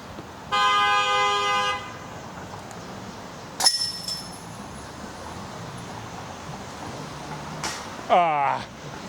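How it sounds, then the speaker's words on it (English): A car horn sounds in busy city traffic, a bright sustained honk near the start, with other short horn-like toots and traffic noise after it. "Couldn't tell if that car was honking at me or not."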